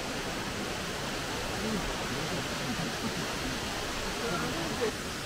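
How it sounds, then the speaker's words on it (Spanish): Loud, steady roar of a waterfall at Kii-Katsuura, Japan, a continuous broadband rush of water close by with no breaks. "Pues esto es lo más cerca que se puede estar de la cascada."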